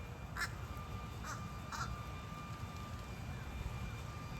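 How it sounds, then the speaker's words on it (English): Crows perched overhead in a garden in a St. Petersburg neighborhood. Three short caws ring out in the first two seconds, faint and distant, above a low steady background rumble. "There's some crows up on there."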